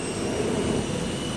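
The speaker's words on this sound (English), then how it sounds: "a deafening hurricane of noise generated by whirling propellers, jet engines, and sudden gusts" Roaring jet engines and whirling propellers on an aircraft carrier flight deck make a steady, loud, broadband rumble that fills the scene without a break and sounds close by.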